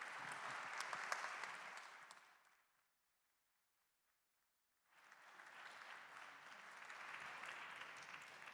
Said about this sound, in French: merci beaucoup de les applaudir chaleureusement